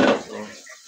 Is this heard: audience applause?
no